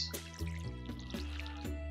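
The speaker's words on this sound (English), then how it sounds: "We're just gonna water up all this." Crops are watered with a watering can in the farming video game Stardew Valley, with a quick series of small splashing drips repeating in a steady rhythm, faint and alone.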